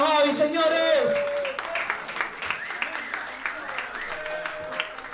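A rap battle crowd at a trap freestyle event claps for one of the competitors, a short, scattered round of applause following an announcer's loud call, with voices continuing over it.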